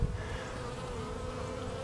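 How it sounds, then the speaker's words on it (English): Honeybees hum steadily at very close range on a morning, a dense, continuous drone with no voices and no breaks. "This is actually how close I am to the bees."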